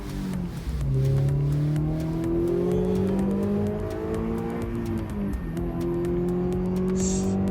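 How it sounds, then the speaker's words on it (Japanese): A Toyota GR86 sports car engine revs and accelerates steadily, its rising harmonic drone loud and close throughout with no talking. "あんちゃんの車ちょっと運転させて。"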